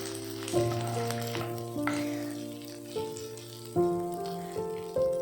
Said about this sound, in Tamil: அப்புறம் கேஷ்யூ நட் போடுங்க. அப்புறம் கருவேப்பிலை, அப்புறம் மிளகா, அப்புறம் வதக்குங்க.